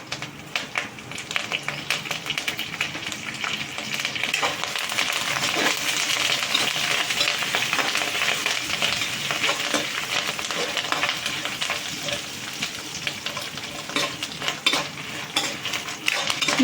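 Curry leaves fry in a pan for murungai leaf chutney with dense, continuous sizzling, and a utensil scrapes and stirs close by throughout.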